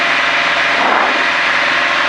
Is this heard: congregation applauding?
no